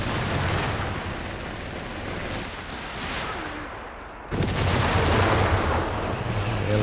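An artillery barrage strikes a British mortar position in a Company of Heroes 3 2v2 match. It sounds as a continuous roar of explosions and gunfire with rumbling low booms, a brief dip and then a renewed loud surge.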